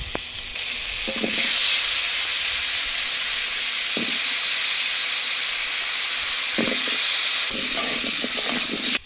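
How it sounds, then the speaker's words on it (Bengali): Potatoes fry in mustard oil left over from frying prawns in a wok, giving a loud, steady hiss and sizzle with a few soft stirring knocks, and no talk. "2-3 মিনিট আলুগুলো ভেজে নিচ্ছি"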